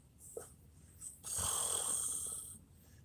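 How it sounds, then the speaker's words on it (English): A woman snores softly inside a van, a low purring rasp that swells into one long steady breath in the middle, close by and quiet, with no talking. "I can hear her snoring. Huh? She doesn't snore loud. It's just like a cat purr."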